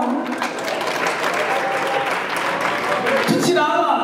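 Sustained applause from a comedy show audience in Burundi, a thick steady roar of many hands clapping throughout, with a voice cutting in near the end.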